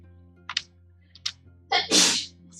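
A sneeze breaks through a quiet indoor room: two short sharp intake bursts, then one loud explosive sneeze, fairly close and alone with no talking.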